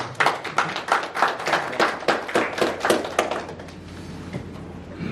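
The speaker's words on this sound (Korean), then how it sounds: "박수 한번 쳐드리고 싶어요." Audience at a Korean policy forum on regional recovery after the Gangwon wildfires claps in a brisk round of hand claps, loud at first and tapering off toward the end.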